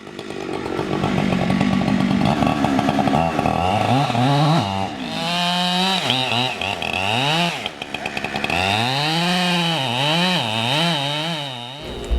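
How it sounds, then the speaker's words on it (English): A chainsaw runs loud and close, cutting through the butt of a large old dying tree log. It rises and falls in pitch as the engine bogs and revs through the wood, alone with no talk. "It took 3 tanks of chainsaw fuel just to cut the butt."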